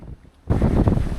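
A sudden gust of strong wind roars into the microphone after a brief quieter moment, a dense low rumbling buffet with no voices.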